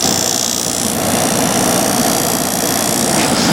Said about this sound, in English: And the compressor honestly doesn't sound that bad now.